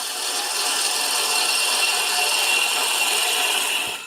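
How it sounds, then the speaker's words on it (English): A woodturning gouge cutting face grain on a lathe, with the bevel riding around the corner of the piece: a steady, loud hissing shear of wood shaving away, continuous and close, with no voices. "So I'm going around the corner, I'm starting to cut with the bevel riding."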